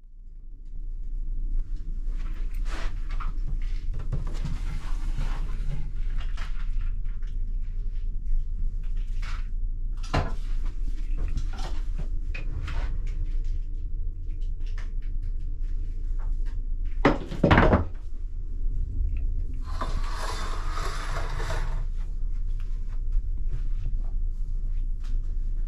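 Closet door and pull-out drawers in a cruise ship cabin open and shut in scattered knocks and thumps, with a few sliding scrapes and one heavier thud, over a steady low hum of the ship.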